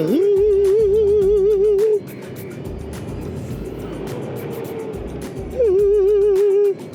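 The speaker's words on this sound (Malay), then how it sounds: "Kalau kau dengar, aku rasa ini adalah bunyi belt dia lah" A wavering, steady drive belt whine from a BMW CE04 electric scooter rises over a rumbling drive at the start, drops away for a few seconds, then returns near the end, loud and close.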